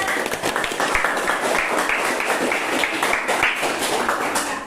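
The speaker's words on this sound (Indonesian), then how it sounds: "Mari kita berikan tepuk tangan." An audience claps after a speech at a teacher professional education program event, a loud, busy patter of many hands clapping steadily and close, continuing without pause.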